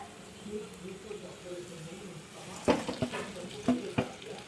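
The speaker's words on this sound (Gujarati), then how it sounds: "હવે આપણે પૌવા નાખી દઈશું આની અંદર" Poha with peanuts and vegetables is stirred in a pan for batata poha. A low sizzle of frying runs throughout, and a few sharp spoon scrapes and knocks come close together near the end.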